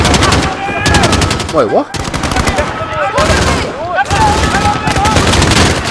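Rapid bursts of automatic gunfire from Call of Duty: Modern Warfare crackle in repeated volleys, loud and close, separated by short gaps, with a brief spoken exclamation in between.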